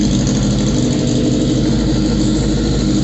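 Modified lawn mower engine with an open exhaust and no baffles, running steadily close by with a loud, continuous raspy drone and no pauses.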